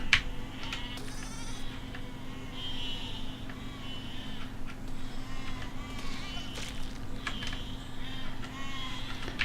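Repeated sheep bleats in the video game Besiege, short nasal calls recurring every second or two over a steady electronic hum, with some buzzy game sounds mixed in.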